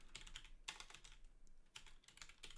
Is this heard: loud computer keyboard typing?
yes